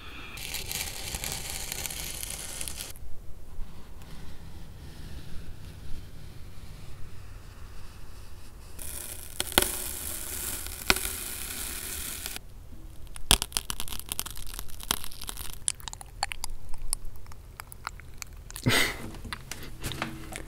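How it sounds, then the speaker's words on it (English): Dry and wet foods, including chocolate, are rubbed and crunched up close as sound effects: a steady crinkling, crackling texture with louder bursts of crushing and scattered sharp clicks over about twenty seconds. "I'm going to get some various dry and wet foods rubbing and crunching"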